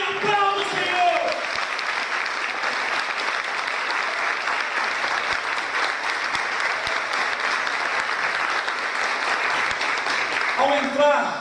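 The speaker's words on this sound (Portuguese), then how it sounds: "Aleluia, aplauda o Senhor" Church audience applauding and praising, a loud, sustained roar of clapping with crowd voices and a spoken phrase at the start and end, steady throughout.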